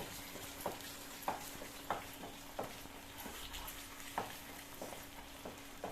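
Mint pickle mixture sautés in a pan with a soft, constant sizzle. Light scrapes from stirring come through every second or so. No one speaks.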